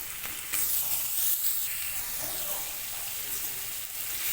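A pan of soybean curry with tomato and ginger paste sizzles with a dense, even hiss as it is stirred and mixed, close up and without voices.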